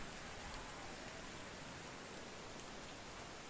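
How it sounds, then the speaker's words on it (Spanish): Steady rain hiss in the video game Medieval Dynasty, a dense even wash of falling drops with no breaks, constant and fairly close. "¡Oh, está lloviendo!"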